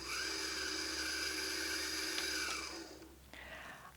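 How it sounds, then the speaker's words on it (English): A Janome Memory Craft 6700P sewing machine winds a bobbin with a steady high-pitched motor whine, close and continuous, which stops near the end and leaves brief mechanical clicks. "there's actually a button on the front of the machine here that we press. And that will start winding the bobbin for me."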